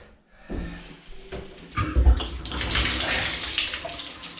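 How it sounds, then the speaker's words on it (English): Bath taps turned on in a house with a gravity-fed water system, water gushing loudly and steadily into the tub and rushing through the pipes after a few soft clunks at the start. "And we'll open up the bath taps"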